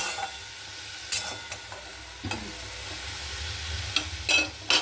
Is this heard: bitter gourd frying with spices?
yes